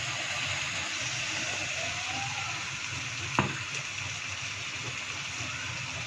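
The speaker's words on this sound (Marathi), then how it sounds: "हे बघा टाकून देऊया लगेच टमाटे पेस्ट." Chicken kheema sizzles steadily in a pan as tomato paste goes in, a continuous close frying hiss with one brief sharp clatter partway through and no talking.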